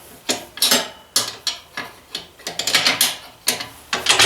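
Metal wrench ratcheting and clicking on a fitting while fitting a new pressure switch: a run of short, sharp, uneven clicks and scrapes close to the microphone, with no talk.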